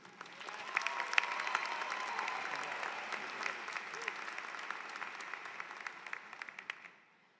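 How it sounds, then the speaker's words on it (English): An audience at an undergraduate business and STEM graduation ceremony applauds a student speaker in a sustained, even wash of clapping with scattered sharp claps standing out, fading away over the last moment. "please welcome him with a round of applause, Riccardo Richburg."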